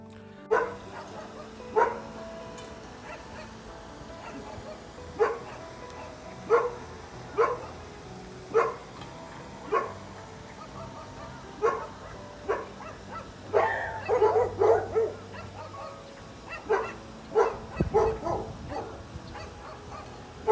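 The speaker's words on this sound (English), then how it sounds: "in it there are a lot of dogs" Dogs kept on a junkyard plot at a dog meat farm bark in repeated separate yelps from a middle distance. The barks come every second or two, and a cluster of overlapping barks and whimpers rises midway.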